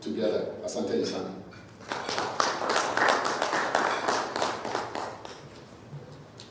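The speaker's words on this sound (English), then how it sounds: "I will ask for a better round of applause for our chair" An audience at a discussion event on AI in Kenya applauds the chair, a sustained round of clapping with individual claps standing out, while a voice speaks over the start.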